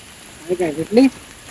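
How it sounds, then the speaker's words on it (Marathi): Steady hiss of monsoon rain falling on a surface in a village during crab catching, with brief muffled voices rising over it in the middle. "पाऊस येतोय."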